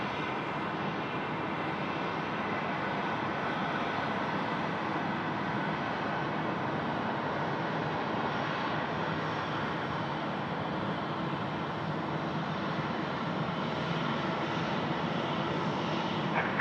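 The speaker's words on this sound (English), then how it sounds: "runway 16 right, clear for takeoff" A jet airplane takes off from runway 16 right at Sydney Airport on a night of heavy rain, its engines a steady, broad roar held at constant loudness from a distance throughout, with no talk.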